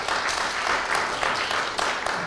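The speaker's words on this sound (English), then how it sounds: "everybody's clapping" A congregation applauding together at a Messianic synagogue service, a steady wash of many hands clapping close and fairly loud, continuous throughout with faint voices mixed in.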